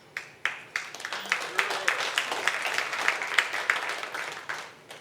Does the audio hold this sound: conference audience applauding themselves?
yes